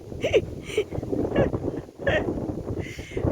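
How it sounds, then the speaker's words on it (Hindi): Strong wind blows under cloudy skies, buffeting the microphone with continuous low rumbling gusts across the whole stretch, while people talk over it. "बादल हो गए हैं और कितनी तेज हवा चल रही है"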